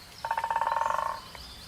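Toad croaking, a rapid pulsing trill of about a second, moderately close and clear against quiet background.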